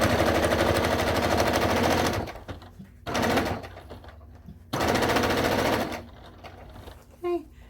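A sewing machine stitches a clutch purse pocket in rapid, loud mechanical bursts with short stops between runs, and a voice speaks briefly near the end.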